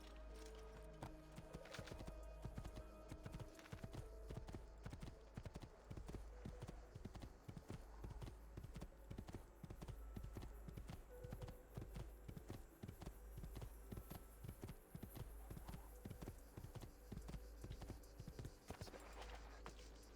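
Hooves clip-clop quickly and steadily for about twenty seconds as a horse is ridden in Assassin's Creed 2, the rhythmic thuds running under a busy town ambience with a low hum beneath.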